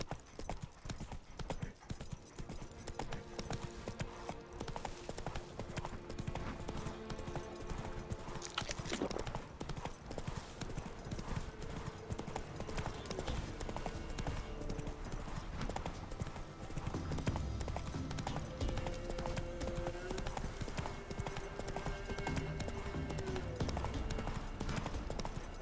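Roach the horse's hooves clip-clop in a steady walking rhythm through The Witcher 3, close and clear over a continuous ambient game music bed, with no talking.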